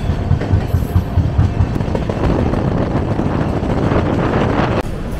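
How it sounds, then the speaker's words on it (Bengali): The Rajdhani Express pulls out of Kokrajhar station with a loud, close rumble and rhythmic clickety-clack of wheels on rails, mixed with gusty wind buffeting the microphone. "ট্রেন এখন ছাড়লো কোকরাঝার স্টেশন থেকে।"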